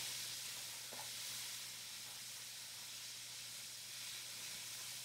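Sliced mushrooms saute in a pan for pot pies, giving a faint, steady sizzle and hiss throughout with no talking.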